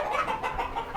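Kadaknath chickens on a small poultry farm shed cluck in a short close burst of overlapping hen calls, with no talking.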